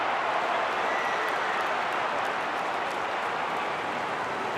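A big stadium crowd roars at an AFL match between Carlton and the Western Bulldogs, a dense, steady wash of cheering and applause, loud and unbroken the whole time, with no distinct voices standing out.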